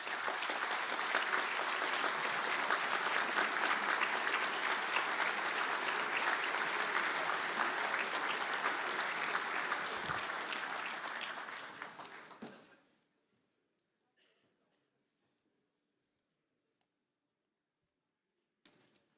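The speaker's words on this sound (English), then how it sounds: "please all stand up and receive a well-deserved round of applause" An audience at a university conferring ceremony in Galway gives graduates a standing round of applause, dense and sustained for about twelve seconds before tapering off into near silence, with one faint sharp knock afterward.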